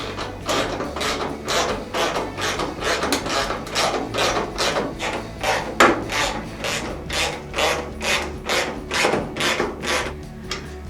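Steady, rhythmic ratcheting while ordinary 1/4 inch bolts are tightened on the tail lights of a Jeep J10, with repeated grinding clicks in regular bursts, loud and close, with no talking.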